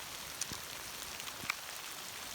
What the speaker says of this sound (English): you can see it started to rain